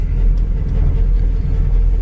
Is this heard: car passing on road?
yes